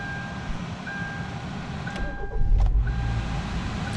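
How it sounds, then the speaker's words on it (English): A rental car's engine cranks and catches partway through, then settles into a steadier, heavier low rumble as it idles, with no talking. "Let's see if the car starts."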